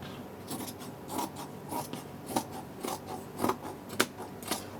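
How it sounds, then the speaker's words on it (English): Scissors trimming excess beaded fabric from a gown, a quiet series of repeated crisp snips about every half second, close and alone. "I'm actually going to trim away some of this, because it's already beaded"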